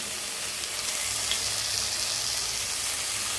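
Corn frying in a pan with a steady, close hiss of sizzling oil, even and unbroken throughout with no talking.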